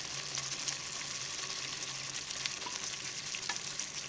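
Sautéed capsicum, mushrooms and onions stirred into a kadhai mushroom mixture in a pan, a steady soft sizzle with light scraping from the spoon and no talking.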